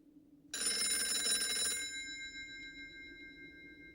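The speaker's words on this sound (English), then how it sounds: "I was getting ready for bed when the phone rang" A telephone bell rings once, close and bright, a sharp metallic trill lasting over a second that leaves a long fading ring in a quiet room.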